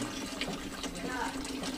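Dirty, yellowish water runs steadily from a household tap supplied by the Lingayen water district, a continuous splashing rush with people talking over it.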